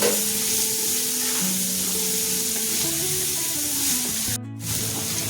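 Onions fry in a pan with salt, giving a steady close-up sizzle and hiss under soft tonal background music.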